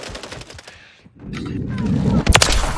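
Call of Duty MW3 gunfire, a loud cluster of bursts growing heavier near the end with sharp cracks, a short quiet gap in the middle, and no voices over it.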